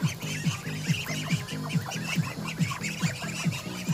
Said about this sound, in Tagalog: Sinundan lang namin yung mga duck.